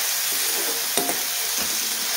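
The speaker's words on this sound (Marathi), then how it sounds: "आता आपण मीठ घालून छान परतून घेऊया" Food sautéing in a hot pan after salt is added, a steady close sizzle and fry with a couple of brief stirring clicks, no voices.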